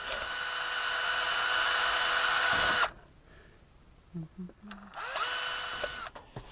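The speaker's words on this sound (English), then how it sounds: "So let's go and drill some holes." A power drill whines loudly and steadily, drilling holes in the back bumper of a scale RC crawler, stops abruptly, then after a few quiet knocks starts up again for another burst.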